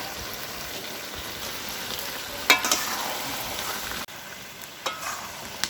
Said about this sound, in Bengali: ভেজে রাখা আলুটা দিয়ে দিচ্ছি।